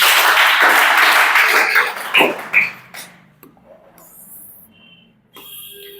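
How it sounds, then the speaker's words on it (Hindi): A classroom of students at a Chhattisgarh police recruitment coaching class bursts into close, loud applause for about two seconds. It then trails off into a few scattered claps and quiet room sounds. "ताली बजाओ कर लिए।"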